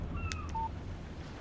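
A phone message alert in Alan Wake Remastered: short, clear electronic tones, a couple of quick beeps followed by one steady tone, over a low background hum.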